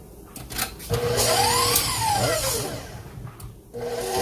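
A tired-sounding KitchenAid stand mixer starts up with a rising whine that swells and then settles into a steady motor hum. It is fairly loud and close, with no talk.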